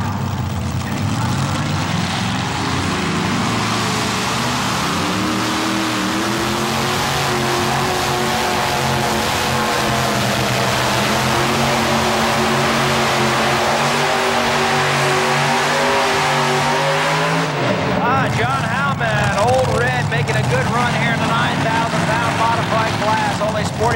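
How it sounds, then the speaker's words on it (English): A three-engine pulling vehicle roars at a 1987 tractor pull in Syracuse. The engines keep up a loud, sustained drone with rising harmonic whine for most of the run, then cut off sharply. An announcer talks over the noise. "Don't let the three engines fool you. This is a team that has the power and driver skill to go all the way."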